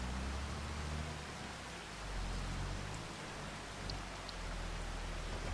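Steady rainfall in the video game Farming Simulator 25, a soft, even hiss of rain with a low rumble underneath, continuous and unbroken throughout.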